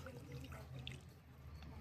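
Fungicide-mixed water is poured over potted plants, a soft continuous trickle and splash with faint drips, close by and fairly quiet, with no speech.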